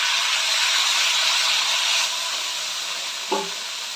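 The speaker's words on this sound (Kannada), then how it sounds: "ಟೊಮೊಟೊ ಚೆನ್ನಾಗಿ ಫ್ರೈ ಆಗಬೇಕು" Tomatoes and curry leaves fry in a pan for tomato rice, giving a steady close hiss that slowly eases off, with one brief clink of a utensil near the end.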